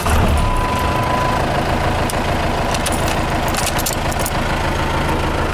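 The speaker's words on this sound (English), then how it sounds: "start my truck, leave it running, lock it up, and she'll be warming up" A Ford Ranger pickup fitted with a swapped 4BT Cummins diesel engine idles nearby with a steady, dense rumble and faint knocking, running alone without talk.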